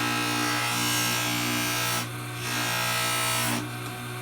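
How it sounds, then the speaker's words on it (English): A jeweler's rotary polishing machine whirs loudly as a hammer head is buffed to a shine, a steady motor hum with harsh rubbing that briefly eases twice as the hammer is lifted from the wheel. "So first I'm going to polish my hammer,"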